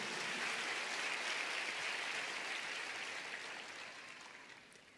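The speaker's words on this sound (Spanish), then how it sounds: "Dale un aplauso a Jesús en este día, porque Él vive." A church congregation at a resurrection sermon breaks into sustained applause, a broad wash of many hands clapping that holds steady and then slowly fades toward the end, heard alone without voices.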